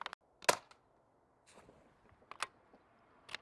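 A Crosman VaporMax pump air rifle fires, giving a sharp, fairly quiet crack, followed by a few fainter clicks and handling sounds in an otherwise still setting.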